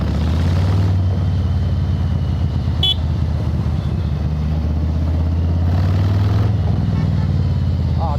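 A 2000cc Harley-Davidson Street Bob motorcycle rides through Indian streets, its engine rumbling loud and steady up close, with a brief horn-like toot partway through.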